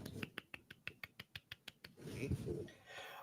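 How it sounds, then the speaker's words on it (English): A handful of soft, polite golf claps, about eleven light evenly spaced claps close by, followed by a burst of muffled noise and low voices. "Golf clap."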